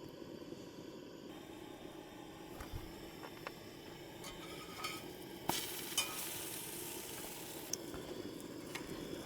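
Bread toasts in a hot pan the way a grilled cheese does, giving a soft, steady sizzle with occasional light scrapes and clicks, close by and without talk.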